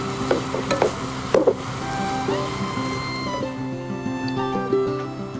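Potatoes and Malabar spinach being stirred in a wok for a Bengali mixed-vegetable niramish dish: a few sharp spatula knocks and scrapes over a soft steady sizzle, close and without talking.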